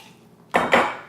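Ice drops into a cocktail shaker with two quick, sharp clattering hits close by, in an otherwise quiet setting.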